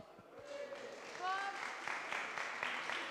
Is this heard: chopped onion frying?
no